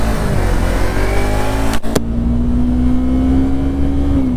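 A Yamaha R3 sport motorcycle engine runs loud and close on a New York City street, holding a steady, buzzing drone whose pitch rises slightly before easing off near the end.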